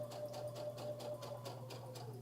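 A sewing machine stitches quilting fabric in a steady rapid needle rhythm, close and continuous, with a mechanical hum beneath.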